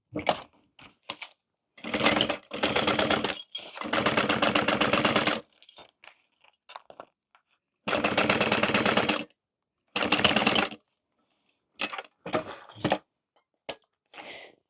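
Sewing machine stitching the straight edges of a fabric waist pack in several rapid, rattling bursts of a few seconds each, separated by short pauses and small clicks, heard up close.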